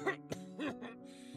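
A man coughs in a few short, rough bursts, close and fairly loud, with a throat-clearing quality and a steady low hum behind.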